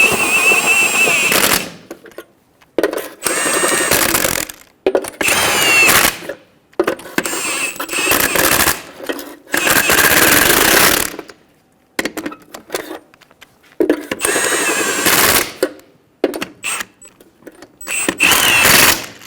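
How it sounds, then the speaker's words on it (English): Impact wrench snugging down the front wheel lug nuts on a 2005-2015 Toyota Tacoma during a brake caliper job, loud repeated hammering bursts of a second or two separated by short pauses, with no talk. "Snug down the lug nuts."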